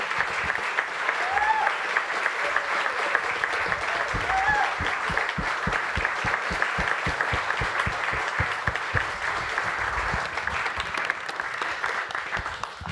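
Warm audience applause at a Munich film festival event for director Margarethe von Trotta, a dense steady clapping from a large indoor crowd that keeps going throughout, with a few faint voices underneath.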